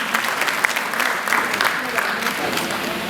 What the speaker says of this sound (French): Des applaudissements nourris.